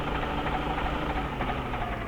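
A Fiat 70-56 tractor in Farming Simulator 15 runs with a steady, close, low diesel rumble and a knocking idle, holding even throughout with no voices.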